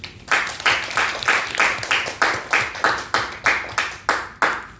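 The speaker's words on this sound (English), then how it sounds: "A round of applause for Philip." Rhythmic group clapping at a club meeting, close and fairly loud, with hands striking in a steady, evenly spaced beat of roughly twelve sharp claps.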